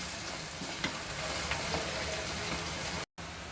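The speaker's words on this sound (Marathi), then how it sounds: "हे ढवळून अळू ओतूया" Red masala with turmeric sizzles steadily in a frying pan as it is stirred before taro leaves go in, a close hissing fry with a few light scrapes and a brief cutoff near the end.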